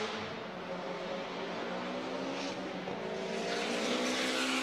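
Race car at Circuit of the Americas carrying throttle through the S curves, a continuous loud engine drone with rising harmonic tones and faint tire scrub, steady and close throughout.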